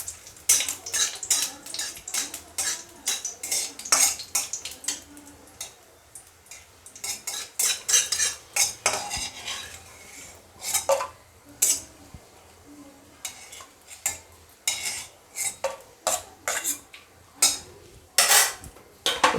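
Metal utensil scraping and clinking in a hot wok as green chillies and greens are stirred in mustard oil, with irregular bursts of clatter over a faint background sizzle.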